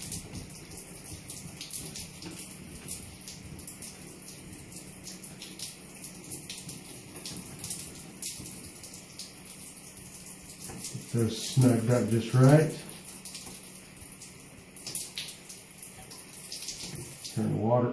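Water runs from a Kohler Coralais shower valve in a steady hiss throughout, with someone briefly speaking near the end as the handle is fitted.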